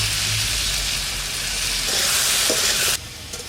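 Potatoes tossed with turmeric and salt sizzle steadily in a hot pan, a broad frying hiss with occasional stirring scrapes, then the sizzle drops abruptly near the end as the heat or lid changes.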